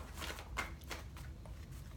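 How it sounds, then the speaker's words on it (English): Tarot cards are shuffled by hand close to the microphone, a quiet series of soft riffling swishes and papery bursts repeating every few tenths of a second, with no talking. "shuffling these cards right now"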